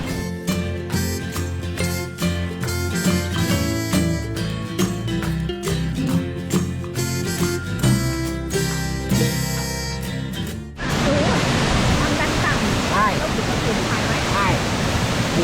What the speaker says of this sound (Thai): ตรงนี้เขาบอกว่าสูง 300 เมตรเป็นน้ำตกที่สูงที่สุดในเขตเขาใหญ่